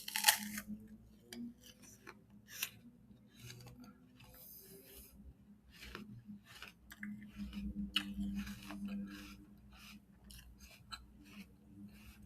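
Someone bites and chews a raw apple close to the microphone, with wet, crisp crunches that come in irregular bursts over a quiet background and no talking.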